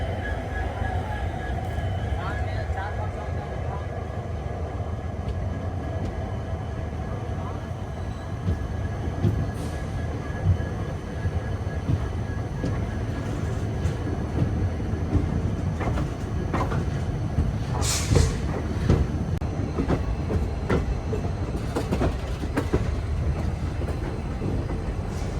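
Amaravathi Express (Narasapur–Hubli) running on the tracks near Hospete, a steady loud rumble of wheels and carriage noise throughout, with scattered clanks and a brief high squeal midway.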